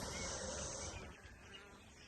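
Bees buzz around a hive entrance, a faint, continuous insect drone that is strongest at first and then thins out.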